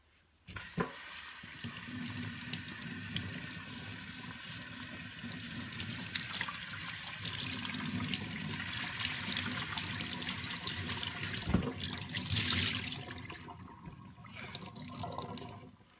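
Skeins of yarn are rinsed under steady running water, a continuous splashing, hissing flow close by that runs for several seconds with slight changes in tone.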